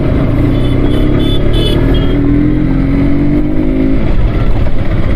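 A loud KTM RC 125cc motorcycle engine runs steadily close by, its pitch rising as it revs, with no talking over it.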